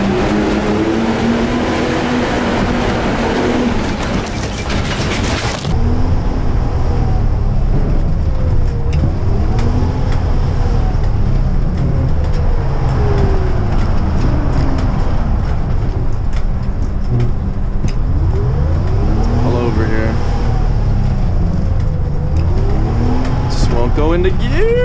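A 1959 GM 4104 bus engine revs repeatedly during a gear shift in an unsynchronized transmission, its loud drone rising and falling in pitch over constant cabin rumble while someone talks throughout.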